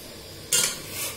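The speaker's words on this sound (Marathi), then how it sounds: "चहा थोडा हलवून घेऊया." Tea being stirred in a pot, with a brief scrape of the utensil against metal, a second softer stir following, close up and with no talking.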